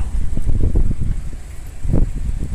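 Heavy, buffeting wind noise rumbling against the microphone in uneven gusts during a test ride on a 2013 Triumph Daytona 675 motorcycle, loud and close throughout.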